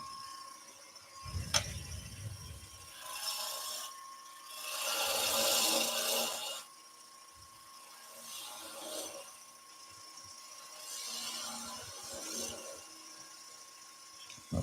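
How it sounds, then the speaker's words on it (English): Spindle gouge cutting driftwood spinning on a lathe, with several rasping scraping passes of a few seconds each over a low steady motor hum, fairly faint and close. "let's get in there with spindle gouge"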